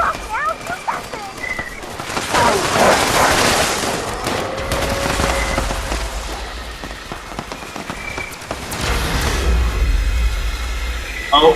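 Gunfire in the video game Fallout 76, loud rattling bursts mixed with rumbling game noise, creature sounds and a person talking over it.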